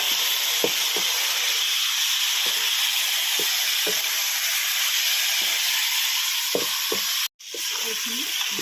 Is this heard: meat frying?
yes